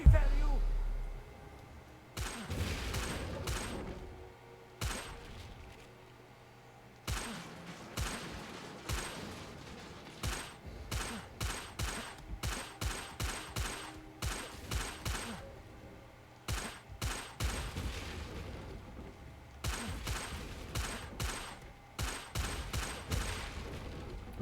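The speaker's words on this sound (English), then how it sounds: "I'm just shooting stuff now." Video game gunfire in a Hogwarts Legacy–style setting, rapid bursts of sharp shots in clustered volleys separated by short pauses, loud and close, continuing steadily through the whole stretch.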